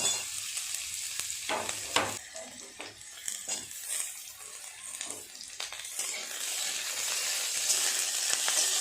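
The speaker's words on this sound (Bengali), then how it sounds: "আর একটু নেড়ে চেড়ে ভেজে নেব এগুলো" Carrots, potatoes, onion and chili sizzle as they fry in a pan, with repeated scraping and clinking strokes from stirring over a steady crackling hiss, close and fairly loud.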